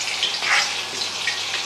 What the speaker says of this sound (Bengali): মাটনের ঝোলে আলু ঢুকে ভেজে নিচ্ছি